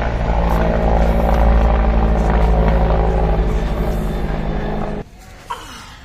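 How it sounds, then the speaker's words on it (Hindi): A helicopter flying overhead makes a loud droning rotor hum that fills most of the clip, then cuts off sharply near the end, leaving quieter background noise. "ये देखो गाइस, हेलीकॉप्टर जा रहा है"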